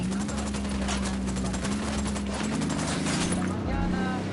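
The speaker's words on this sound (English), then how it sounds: "Looks like a firefight between the rebels and the cartel." Sustained gunfire in a video game firefight between rebels and cartel forces, a dense continuous crackle of shots with a droning engine tone underneath, loud throughout.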